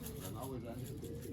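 Young racing pigeons arrive home from a race and coo, low soft cooing close by under a steady background, with people talking.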